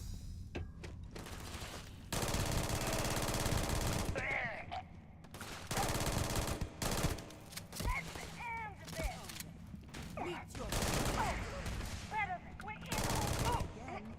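Gunfire in the video game Starfield: Shattered Space, with dense bursts of rapid automatic shots and a few single shots, loud and close, while a voice talks over the shooting at intervals.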